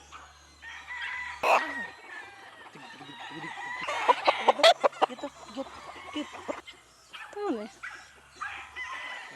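Five-month-old Sweater Boston gamefowl stag crowing and clucking amid other birds, with bursts of nearby calls and a dog barking; a person speaks briefly.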